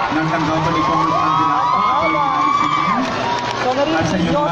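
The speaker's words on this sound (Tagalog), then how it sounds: "narinig nyo sa aking background ang hiyawan ng ating live audience" A live audience at a Santa Cruz Battle of the Morion event shouts and cheers steadily in a loud, continuous roar, with overlapping whoops and voices blending into the crowd noise.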